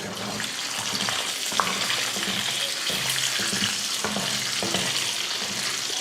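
Egg frying in hot oil in a pan, a dense continuous sizzle with occasional stirring scrapes, close up and steady, with faint tonal background sounds and no talking.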